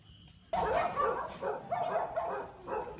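Dogs in a kennel break into barking after a quiet start, a run of overlapping barks and yips from nearby with a faint whimper, no talking.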